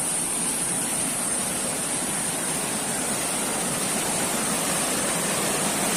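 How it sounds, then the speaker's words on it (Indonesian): Floodwater in a mountain village after rain, overflowing and rushing past nearby as a loud, constant, dense roar like a waterfall. It stays level without a break, and no voices can be heard over it. "ada hujan dan banjir, airnya meluap ke sini nih"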